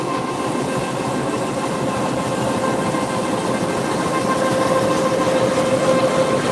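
Steady rumble and hum of a train at Maijgaon railway station, Sylhet, a continuous mechanical drone with faint tonal whine, no voices.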